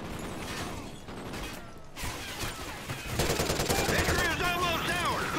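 Rapid video game gunfire rattles in continuous overlapping bursts, growing louder and denser in the second half, with a harsh metallic edge throughout.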